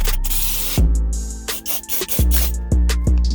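A spray bottle squirts cleaner inside a car's interior in several short, sharp bursts, close up, with quiet pauses between them and one longer hiss at the start.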